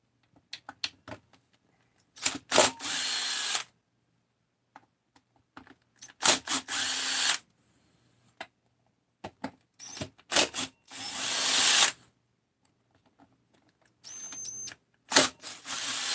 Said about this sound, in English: Might as well start undoing case bolts.